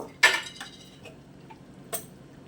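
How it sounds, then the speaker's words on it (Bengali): A spoon scrapes and stirs shrimp and mixed vegetable curry in a metal pan, giving two sharp clinks separated by softer taps in a quiet room. "কষিয়ে নেবো, নাড়িয়ে চাড়িয়ে নেব"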